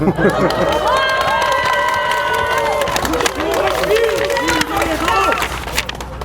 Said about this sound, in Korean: 여러분 큰 박수와 함성으로 축하해 주시면 대단히 감사하겠습니다